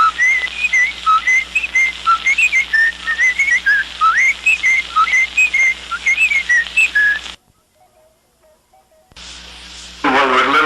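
A whistled theme tune from the Cuckoo Hour radio program, on a 1950s interview recording: a lively, bouncing melody of quick, bright whistled notes, followed by a brief near-silent gap and then a burst of noisy sound.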